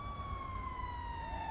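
An ambulance siren wails steadily close by as the vehicle arrives on scene in GTA V with the LSPDFR police mod, a sustained falling tone with no talk over it.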